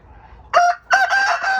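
A rooster crows once nearby, a loud two-part call with a brief break, standing out clearly over faint background.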